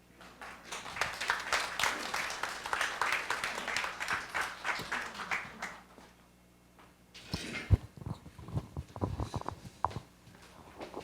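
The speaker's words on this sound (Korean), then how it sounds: "여러분 다시 한번 박수 부탁드리겠습니다" Audience clapping at a content festival opening event, a sustained round of applause for about six seconds that stops abruptly, followed by scattered footsteps, shuffling and a few faint claps.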